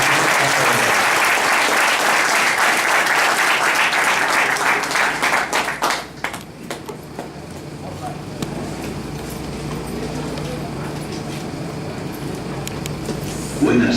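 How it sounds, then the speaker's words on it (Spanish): Loud, dense applause from a conference audience at an academic symposium fills the first six seconds, then tapers into scattered claps and room noise as the welcomed speaker prepares to talk. "dénosle un fuerte aplauso al señor"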